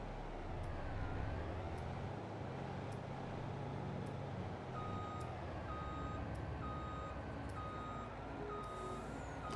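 In Farming Simulator 22, a standard truck with a standard trailer reverses with steady, evenly spaced beeping over a continuous loud engine rumble, and short hisses break in now and then.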